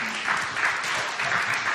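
A church congregation at a Sunday service applauds steadily for almost two seconds, a dense and fairly loud wash of clapping with faint voices underneath.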